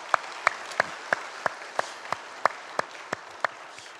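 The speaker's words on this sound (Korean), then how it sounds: "우리 주님께 박수 영광 돌리겠습니다." A single person claps slowly and steadily, about a dozen sharp, evenly spaced claps, close and clear, during an Easter Sunday church service, with no other crowd applause audible.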